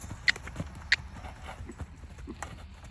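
A gaited horse canters, its hoofbeats landing as a few sharp, distinct strikes over a low, steady background rumble.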